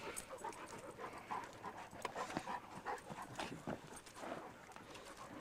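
A young dog pants quickly and steadily, quiet breathy rasps repeating close by with faint shuffling and scrabbling underneath.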